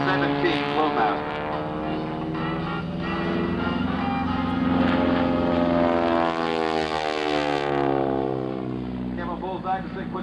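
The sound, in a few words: propeller airplane flying aerobatic loop at airshow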